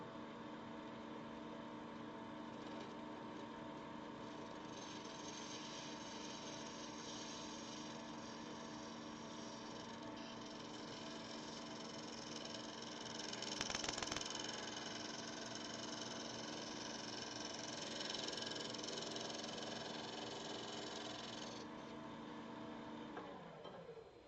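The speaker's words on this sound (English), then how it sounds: "let's smooth out that bottom with a negative rate scraper" Steady mechanical whir of a lathe running continuously, with a brief scraping surge midway as a negative rake scraper bites into spinning recycled plastic, then settling back.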